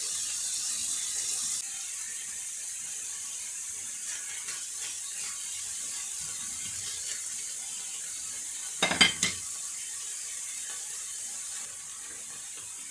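Onions fry in a pan with a steady, faint sizzle that carries on quietly, broken by a brief louder clatter near the end.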